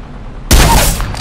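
Gunfire in the battle royale shooter Apex Legends erupts suddenly after a quiet moment, a loud, dense burst of rapid shots that keeps rattling on for the rest of the moment.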